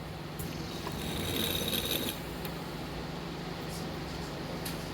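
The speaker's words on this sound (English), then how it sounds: "This is the pump we use for our system." Water pump of an indoor farming system, running steadily with a low continuous hum and faint mechanical whir, close and moderately quiet, with no talk.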